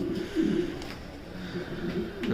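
Mili red checker racer pigeon chicks coo softly in low, repeated murmurs close by, against a quiet background hiss.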